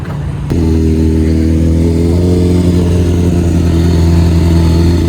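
A motorcycle engine starts abruptly and settles into a loud, steady, close idle with a deep throbbing rumble, among a group of sport and touring bikes such as Aprilia, Suzuki, Harley-Davidson and Ducati gathering to ride out in Kuwait.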